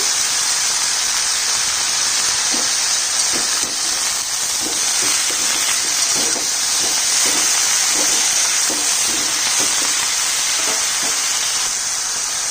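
Spinach greens dropped into a hot pan over fried potato and eggplant set off a loud, steady sizzling hiss, with faint stirring knocks scattered through it and no talking.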